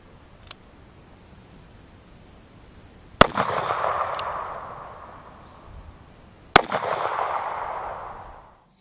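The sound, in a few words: handgun shots fired at a polyurea slab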